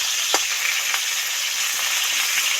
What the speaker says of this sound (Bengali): প্রথমে একটা দিক ভেজে নেব এগুলি পেছনটা আগে সবসময় করতে হয় তাই একটা পিঠ ভেজে নেব